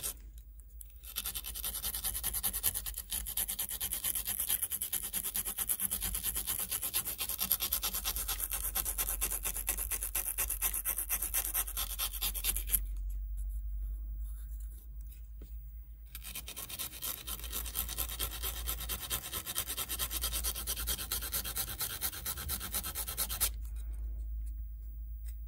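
The contacts of a faulty Super Nintendo cartridge are rubbed clean in close, continuous scrubbing strokes, with a brief pause partway through and a shorter break near the end.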